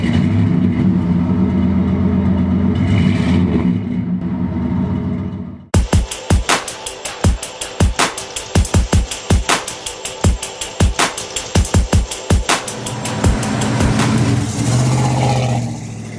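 A 1989 Chevy 3500 truck's engine runs steadily, then a rapid series of sharp ticking clicks and knocks takes over in a regular rhythm before the engine drone returns, loud and close with no talking.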